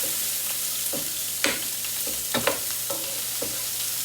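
Food sizzles loudly in a pan over the highest flame, a steady frying hiss broken by several sharp clinks and scrapes of a spoon stirring, with no voices.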